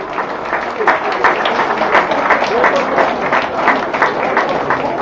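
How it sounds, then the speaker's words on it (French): Outdoor crowd applause at an association parade ceremony in Le Carbet, uneven clapping blended with a busy murmur of voices, fairly loud and close. "Sur vos applaudissements, s'il vous plaît."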